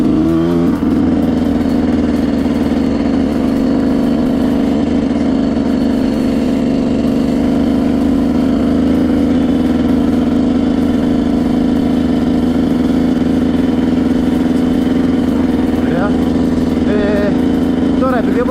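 A Yamaha YZ125 two-stroke dirt bike ridden on a mountain trail, its engine loud and close with a steady droning note and small shifts in revs throughout.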